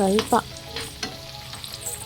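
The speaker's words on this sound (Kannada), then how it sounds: "ಅದನ್ನು ಕೂಡ ಬ್ರೌನ್ ಕಲರ್ ಬರೋವರೆಗೂ ನಾನು ಹುರ್ಕೋತೀನಿ." Onion and tomato frying in a pan give off a quiet sizzle, broken by a few short stirring scrapes and clicks, close by with no talk.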